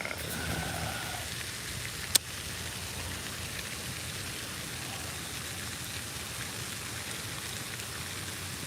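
Light rain falls steadily outdoors on a lake during a bass fishing outing, a soft constant patter with a single sharp click partway through and no voices.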